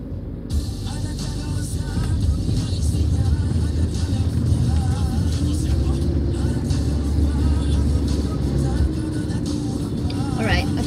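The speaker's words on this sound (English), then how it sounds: "I'm just going to continue driving" A car driving slowly, heard from inside as a steady, loud, low engine and road rumble that continues throughout.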